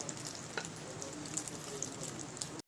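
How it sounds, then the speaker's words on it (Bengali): Paneer kofta fry in a pan with a steady, close hiss and sizzle, plus a few faint pops and crackles scattered through it. "এবারে যে বাকিগুলো বেঁচে আছে এগুলোকেও আমি ভেজে নিচ্ছি ভালো করে।"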